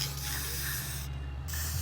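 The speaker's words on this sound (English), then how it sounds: "just go ahead and spray it in there" A close, steady hiss of aerosol lubricant sprayed onto the gears of an RV power awning motor, cutting off briefly before the spray resumes over a low mechanical hum.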